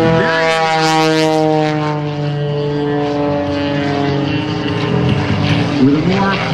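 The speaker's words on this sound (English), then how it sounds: "Do the world's smallest inside loop." A Pitts aerobatic biplane with an uprated engine and strengthened wings drones loudly through a tight inside loop at an airshow, its propeller pitch bending and shifting steadily as the plane climbs and turns overhead.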